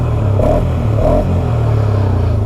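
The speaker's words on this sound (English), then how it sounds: "Listen to that engine." Polaris Sportsman 570 ATV single-cylinder engine revving in a couple of quick rises over a loud, close, throaty idle rumble, with no talk.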